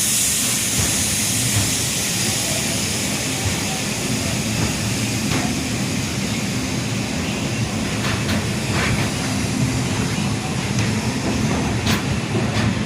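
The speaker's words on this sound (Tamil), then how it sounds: "இதுதான் ஜன்சதாப்தி எக்ஸ்பிரஸ் வந்துருக்குது" Jan Shatabdi Express standing at a station platform in India while its coaches are decoupled: a loud, continuous rumble and hiss of rail machinery, with scattered metallic clanks over a busy background.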